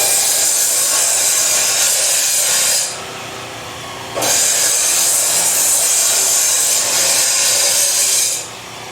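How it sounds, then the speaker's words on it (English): A power tool cuts a length of exhaust pipe from a 2020 Camaro SS 1LE, giving a loud, steady high-pitched grinding whine in two long runs separated by a brief drop in level. "So he's going to cut a slightly longer piece there."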